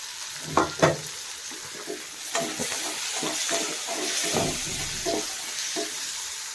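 Fish curry ingredients, including tamarind, fry and sizzle in a pan on a village kitchen stove, with a steady hiss running throughout. A few sharp stirring clatters cut in near the start, and further scraping and stirring follows, with no talking.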